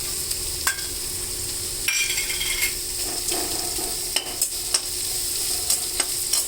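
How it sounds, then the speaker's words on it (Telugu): Onions and garlic fry in oil in a pan for a dry amaranth-leaf stir-fry, a steady sizzle broken by the scrape and clack of a spatula stirring every second or so. "ఉల్లిపాయలు కాస్త వేగినాయి. ఇప్పుడు వెల్లుల్లిపాయలు."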